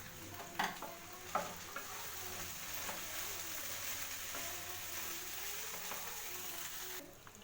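Carrot poha chitranna stirred in a pan over a low flame, soft scraping and occasional spoon knocks over a gentle continuous sizzle, fairly quiet and without talk.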